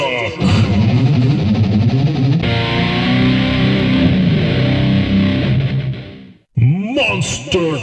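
A voice imitates a monster truck as a deep, heavy, distorted roar with echo, held loud and continuous for about six seconds. After a short pause, another burst starts.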